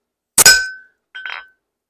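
Two sharp metallic chisel strikes on forged metal over an anvil while forging a fleur de lis, a loud ringing hit followed by a shorter, softer one, with silence between.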